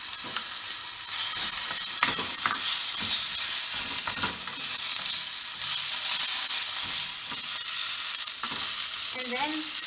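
Ginger garlic paste hits a hot pan of frying liver for a liver curry, giving a steady loud sizzle and hiss with repeated stirring scrapes throughout, close up and without voices.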